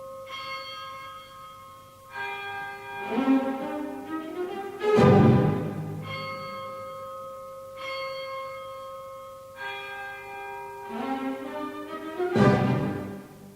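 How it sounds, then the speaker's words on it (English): A deep bell tolls a slow death knell in a spooky orchestral piece, its heavy strokes ringing out several times at long, even intervals, each leaving a lingering metallic hum. "A bell sounds a death knell."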